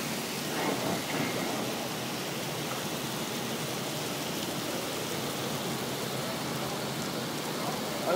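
Thunderstorm with a heavy downpour at a Kansas fair: steady, loud broadband rain roars throughout, with low thunder rumbling beneath it and no clear speech.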